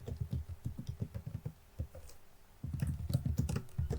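Fingers type a commit message on a computer keyboard in quick, uneven bursts of close clicking keystrokes, pausing briefly before a faster run.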